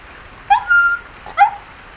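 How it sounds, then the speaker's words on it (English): A golden retriever puppy cries with two close, high whimpering whines, one rising and drawn out and the second shorter, with a small yelp in between against a quiet background. "a tiny puppy was crying for help"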